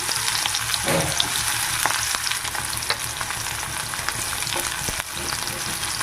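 Chopped onions fry in hot mustard oil with a steady, dense sizzle, broken by occasional stirring clinks and scrapes; no one speaks.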